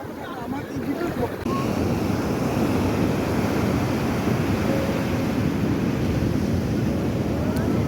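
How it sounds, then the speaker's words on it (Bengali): Rough ocean waves break at Puri beach after a night of rain. A constant low roar of surf and rushing water is heard, with heavy wind buffeting the microphone. "আজকে ঢেউ প্রচণ্ড"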